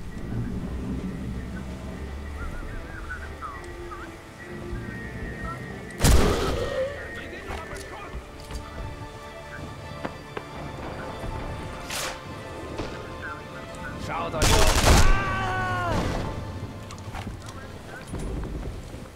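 Colt pistol shots ring out in Sniper Elite V2 amid the Schoneberg streets, two sharp loud bangs roughly nine seconds apart over a background of game ambience and clopping.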